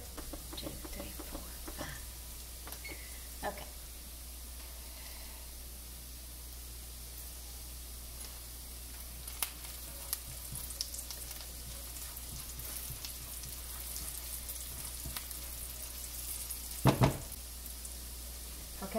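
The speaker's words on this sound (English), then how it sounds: "let's get the shrimp into the skillet" Cajun shrimp in a skillet give off a faint, steady hiss of sizzling, with scattered small clicks and a brief louder clatter near the end; no talking.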